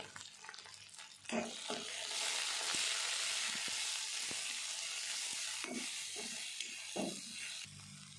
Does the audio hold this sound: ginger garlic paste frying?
yes